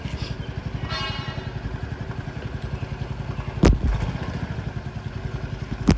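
A motorcycle engine runs at a rough, rapid, thumping idle close by, with a brief rev partway through and a couple of sharp knocks or clatters, no talk over it.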